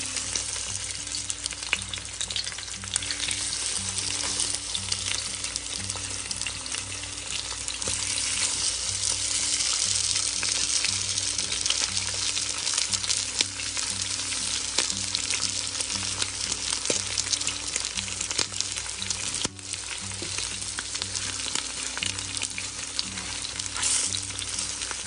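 Chicken thighs fry skin-side down in a pan over medium heat, giving a steady, dense sizzle and crackle that holds evenly for the whole stretch with no talking.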